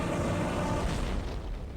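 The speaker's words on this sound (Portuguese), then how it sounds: "A estrela mais pequena irrompe numa série de enormes explosões nucleares." A dense, roaring explosion rumbles for under two seconds, a stellar nuclear blast rendered as a broad, loud boom that fades slightly toward the end.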